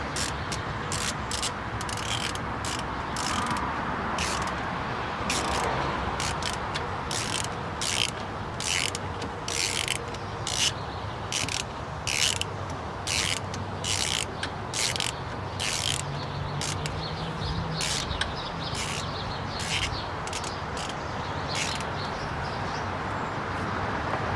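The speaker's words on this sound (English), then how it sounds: "I am turning this counterclockwise to loosen." A ratchet loosens a bolt on the alternator of a 2013 Hyundai Elantra, giving steady, rapid clicking in repeated strokes for about twenty seconds, close up, over a constant background hum and without talk.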